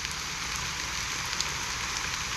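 Steady rain falls in the video game Penacony, a dense even hiss of drops that stays constant throughout with faint scattered patters and no voices.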